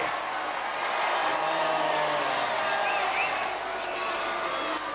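A studio crowd at a Gladiators semi-final turns hostile, a constant roar of jeering and shouting with a few whoops rising out of the noise.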